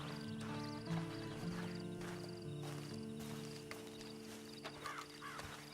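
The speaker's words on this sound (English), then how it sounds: "Then you better get on this horse." Horse hooves clip-clop at a steady pace in the Red Dead Online video game, the rhythmic clopping sitting under a sustained musical drone with occasional bird calls.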